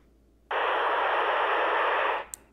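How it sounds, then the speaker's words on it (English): A Baofeng handheld radio with its squelch fully open bursts into loud, even static hiss for nearly two seconds, then cuts off abruptly with a faint click. "can you hear all that noise in the background? What that basically means is that the squelch is completely open"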